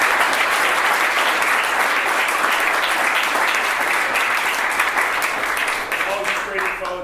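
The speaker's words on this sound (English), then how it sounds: "big hand applause." Audience applause at the close of an evening real-estate investing podcast meetup, a steady, loud wash of many hands clapping for several seconds before tapering slightly at the end.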